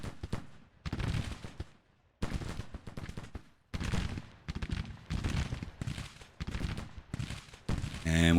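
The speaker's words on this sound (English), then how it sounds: "we're pumping shots into this cavalry unit even though they are not there" Musket volleys from infantry in the American Civil War strategy game Grand Tactician: The Civil War crackle in repeated bursts of rolling gunfire, with brief gaps between the volleys.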